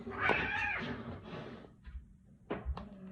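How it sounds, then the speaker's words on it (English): A cat meows in a few short calls, near and fairly loud, with a drawn-out cry at the start and a couple of brief, sharper calls toward the end, against a quiet indoor background. "These cats, man."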